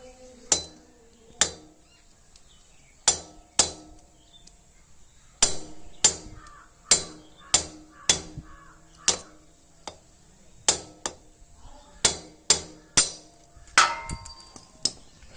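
A hammer taps a pin out of a Royal Enfield Meteor 350 rear brake caliper: a long series of sharp metallic strikes, mostly in pairs with short pauses, close and clear.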